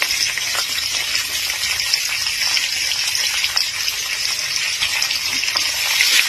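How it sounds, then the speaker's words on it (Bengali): Raisins fry in a pan for pulao, giving a steady, bright, close hiss of hot oil with faint crackles and no voices. "এই এখন এরপরে আমরা এখন কিশমিশগুলো দিয়ে দেব। কিশমিশগুলো একটু ভেজে"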